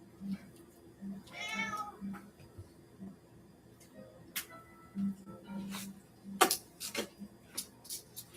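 Several house cats meow in short, clear calls over quiet kitchen background, with scattered ticking and clicking sounds in between.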